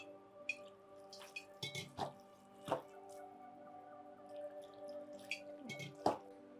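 Water is poured little by little into mini bonda batter, producing quiet, irregular drips and squelchy wet sounds close by over a faint steady hum.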